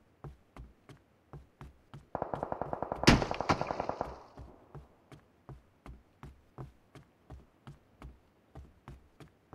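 Gunfire in the shooter game PUBG Mobile: a steady series of sharp single shots ticks along evenly, interrupted midway by a loud, dense burst of rapid automatic fire, then the spaced shots resume.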